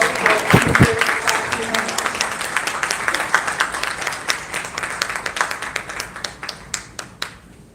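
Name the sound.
audience applause at award ceremony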